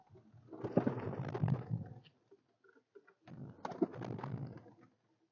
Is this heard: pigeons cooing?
yes